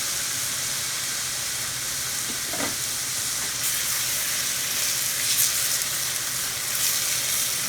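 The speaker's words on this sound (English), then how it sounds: "Now I'm going to add in 2 cups of the marinara that I made." Two cups of homemade marinara sauce hit a very hot pan and sizzle steadily, a loud, continuous frying hiss with faint stirring clinks, close up and with no voices.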